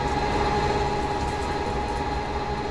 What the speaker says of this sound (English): A bit noisy, but that is nice that the sugar beet factory is animated.